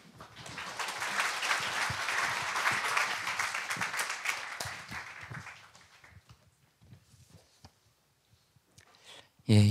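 Church congregation applauding to welcome a guest pastor to the pulpit, a dense, steady round of clapping that swells and then fades out over several seconds, leaving a quiet room with a few scattered claps and a closing thump.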